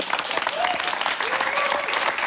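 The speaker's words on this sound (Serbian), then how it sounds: "to zaista zaslužuje jedan veliki aplauz" A studio audience claps on a Serbian late-night TV talk show in a loud, dense, sustained burst. A few whoops rise over the applause.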